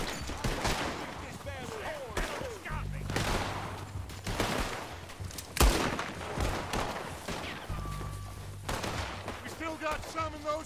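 Repeated gunfire in Red Dead Redemption II, with clustered volleys of shots breaking out at intervals over about ten seconds, mixed with game voices and background ambience.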